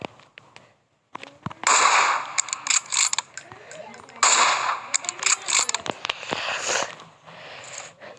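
Gunfire in the video game PUBG comes as sharp, repeated shots mixed with metallic mechanical clicks, in quick irregular bursts. People talk over the shots.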